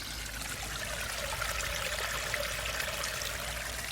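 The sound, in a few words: water trickling over ground and dropping into a pipe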